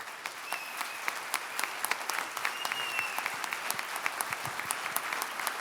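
An audience applauds an honoree with a steady, dense wash of clapping from many hands, sustained at an even level with sharper individual claps standing out throughout.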